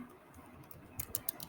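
HTML code being entered on a computer keyboard: a few soft, close keystrokes cluster near the end over a faint room hiss, with no voices.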